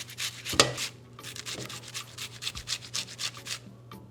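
Garlic cloves are grated by hand straight into a pot of rice, making rapid rhythmic scraping strokes, close and crisp, repeating steadily with brief pauses between them.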